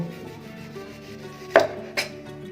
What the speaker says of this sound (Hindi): सबसे पहले हम प्याज को काटेंगे।